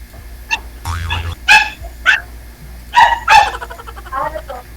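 A dog barks repeatedly nearby in sharp, irregular yelps and barks, mixed with a little whimpering over steady background hum.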